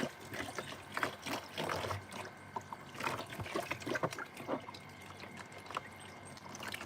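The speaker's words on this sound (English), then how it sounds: "let Mummy wash off her legs. This water feels so good" Water trickles and splashes as someone washes off their legs, a close, continuous liquid patter with irregular drips and small pours throughout.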